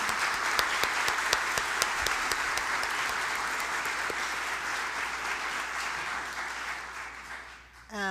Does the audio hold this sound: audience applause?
yes